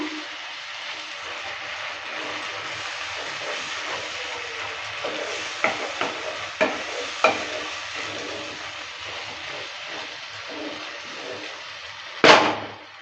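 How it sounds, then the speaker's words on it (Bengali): Pointed gourd paste frying in a pan under a soft continuous sizzle, with a few light scrapes and taps of the stirring utensil midway and one louder knock near the end, with no talk. "পটলের পেস্টটা দেওয়ার পর ভালো করে আবারও নেড়ে চেড়ে নিচ্ছে"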